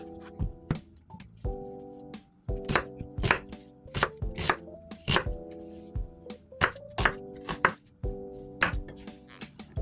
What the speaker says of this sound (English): So now I'm cutting up some vegetables and more seasonings to finish nicing up the pot.